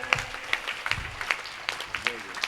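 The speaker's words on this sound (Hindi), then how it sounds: "बहुत सारी तालियां" Clapping from a small group, with sharp bursts of applause rising and falling over a couple of seconds, heard close by.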